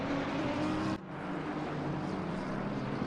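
GT3 race cars roaring through the final corner at Donington in Assetto Corsa Competizione, a loud, steady engine drone with a brief sharp dip near the one-second mark before the howl resumes.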